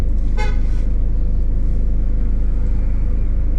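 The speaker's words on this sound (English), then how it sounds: "Got a car coming, haven't we?" A car on the road gives a short horn toot near the start, over a steady low engine rumble from inside a vehicle during a driving lesson.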